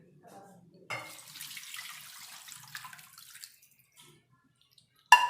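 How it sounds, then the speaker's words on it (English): Water pours into a cooking pot holding duck and dry bamboo shoot for a few seconds with a soft splashing hiss, then tapers off, followed by a brief clink. "Now let's add some water."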